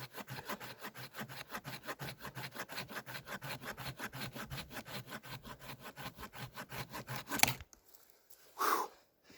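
A Silky Pocketboy Outback folding saw cuts through solid, pitch-soaked fatwood in steady rhythmic back-and-forth strokes, close and loud, ending with a sharp snap and a brief rustle.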